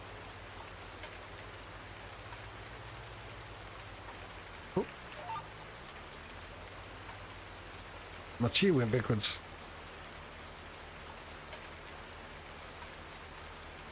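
Steady rain hisses down in Farming Simulator 19, a soft, even wash of falling drops running throughout, with someone briefly speaking over it near the end.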